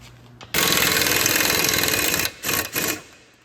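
A power tool chatters loudly and continuously as it drives out Loctited brake caliper pins on a 2008–2015 vehicle's front brake, then stops and gives two shorter bursts.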